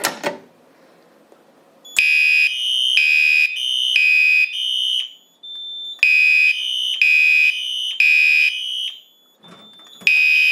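A Simplex 4010 fire alarm system blares loudly in repeated pulses of a harsh electronic horn, with short pauses between bursts, preceded by a brief click.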